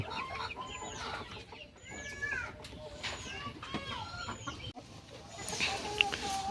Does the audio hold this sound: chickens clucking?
yes